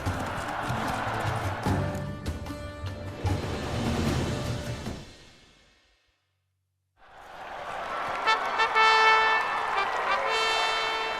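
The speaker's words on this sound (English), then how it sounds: "A race horse of such style, such grace, such speed." Rapid hoofbeats of a galloping race horse in The Witcher 3: Blood and Wine, with a busy, game-like mix, cutting out to silence for about two seconds before the galloping sound returns.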